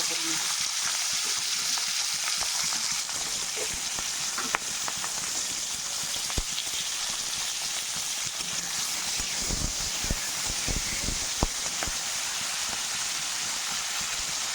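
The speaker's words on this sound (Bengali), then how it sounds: "এখন মাছের এই তেলের মধ্যে আমি সিম দিয়ে ভাজা করে নেব" Flat beans fry in hot fish oil in a pan, giving a steady, continuous close sizzle with occasional clinks and stirring knocks.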